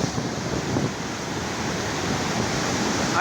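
Floodwater rushing after heavy village rain makes a constant broad roar, steady and close, mixed with wind buffeting the microphone and no clear talk.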